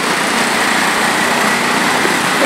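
Motorcycle engines in street traffic in Maceió, a steady, buzzing high-revving drone filling the whole moment close by, with no talk over it.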